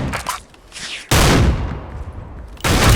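Barrett Siege sniper rifle shots in the game Special Force 2, heavy booming blasts with long rumbling tails, one loud report mid-clip and another near the end, no talking.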